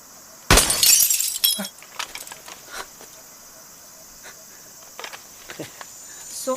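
A gunshot hits a glass bottle target, bursting into one loud, sharp shattering crash with bright tinkling debris, then trailing off into a quiet background with a few faint scattered noises.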